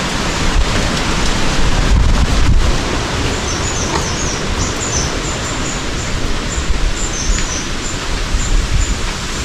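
Strong wind roars steadily across an open rock shelter in a mountain valley, with faint bird chirps high above the rushing noise.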